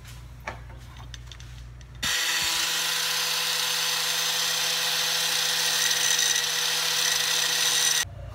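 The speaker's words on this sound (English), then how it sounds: "make sure you got a cutting disc on and not your grinding wheel" Angle grinder fitted with a cutoff wheel slicing through threaded all-thread rod, a loud, steady, high abrasive whine held for about six seconds after a clunk, then cutting off abruptly.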